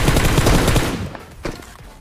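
Rapid bursts of gunfire from the BGMI battle royale game as a knocked enemy is finished off, dense and loud for about a second, then tapering to a fainter shot or two.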